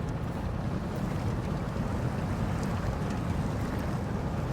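A vehicle drives through water in the off-road game Expeditions: A MudRunner Game. It makes a continuous, even rushing wash mixed with a low engine rumble, loud and steady throughout with no talk.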